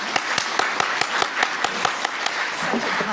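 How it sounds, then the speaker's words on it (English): Audience claps at an academic memorial symposium after a speaker's introduction, the claps sparse, crisp and evenly spaced like a thin steady rhythm, close and clear with no talking over them. "Let's give her a big round of applause."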